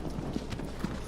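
Hooves of a horse clip-clop in the video game Shadow of the Colossus, a few muffled, evenly spaced thuds over a constant loud ambient wash, with no talking.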